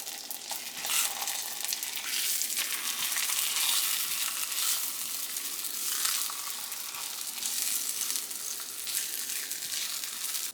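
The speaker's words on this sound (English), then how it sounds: "now that our ham has been a little bit toasted" Ham toasting in a pan for a 1950s vintage recipe, a loud continuous sizzle and crackle that surges and eases over several seconds with some scraping, close up and without speech.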